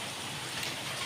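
Steady, dense rain falls on a rainy day, a continuous even hiss of drops on surfaces with no breaks, fairly close and loud.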